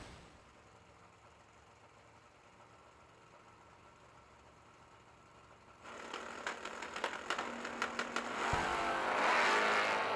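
Two drag racers, an S10 pickup and a Ford Mustang, launch off the line together at a summer drag meet, engines idling low before swelling into loud, rising revs with sharp bursts as they pull away.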